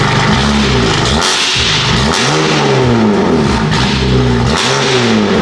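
A BMW F80 M3's engine and exhaust rev hard and repeatedly, loud and close, in rising and falling surges with no talking.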